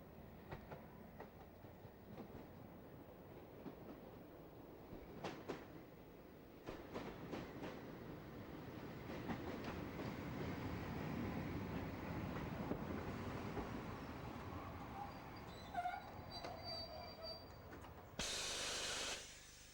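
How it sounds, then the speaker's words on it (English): Steam locomotive number 1618 on the Bluebell Railway running around its train at New Coombe Bridge, heard as a steady rumble with scattered clanks and rail clicks, some hissing steam near the end, moderately distant and without talk. "number 1618 runs around her train in preparation for the trip back to Sheffield Park"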